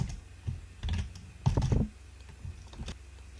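Code is typed on a computer keyboard in short, uneven bursts of key clicks. The clicks are close and fairly quiet, with no voices.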